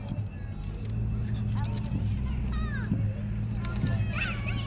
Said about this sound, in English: he's driving a Corvette that has the year 2000